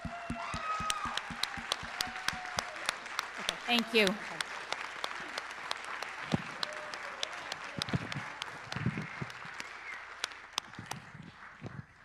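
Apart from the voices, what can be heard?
audience applauding and cheering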